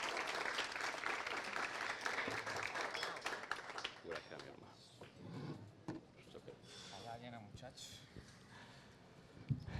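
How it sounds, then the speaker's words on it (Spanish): An audience claps loudly in warm welcome for a bar manager introduced on stage, dense applause at first that thins into scattered claps while people talk over it. "Vamos a recibirlo con un aplauso"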